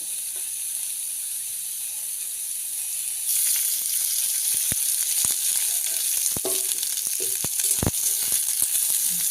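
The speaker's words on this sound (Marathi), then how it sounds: "कांदा आपण चांगला भाजून घेऊया" Onion fries in oil in a pan with a steady sizzle that grows louder partway through, while sharp scraping and tapping from stirring break in now and then.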